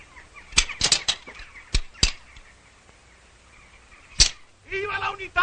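Doves taking flight in a film scene, a few sharp bursts of wing flapping scattered over a quiet background, followed by a brief faint voice-like sound at the end.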